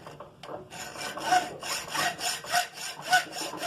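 Hand sawing through a piece of aluminum, starting with a few tentative strokes and then settling into a steady back-and-forth rasp of about seven rhythmic strokes, close and moderately loud.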